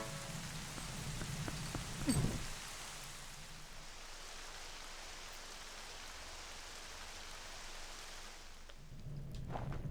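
Steady rain falls in Zelda: Twilight Princess HD, a soft even hiss with a brief heavier rumble near the start and the downpour swelling again at the end.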